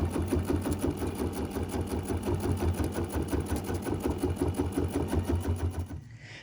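A sewing machine quilts a mini quilt in a rapid, steady mechanical rattle with a low motor hum, close and alone, stopping just before the end.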